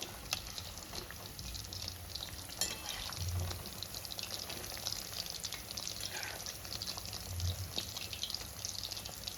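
Chicken lollipops deep-frying in hot oil, a continuous crackling sizzle with scattered pops and bubbling, close and steady for the whole stretch, with no voices.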